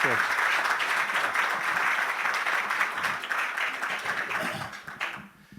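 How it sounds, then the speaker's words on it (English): A university audience at a Three Minute Thesis final round gives the contestants a loud, dense round of applause that carries on steadily before fading out at the end. "giving them a round of applause and congratulating them"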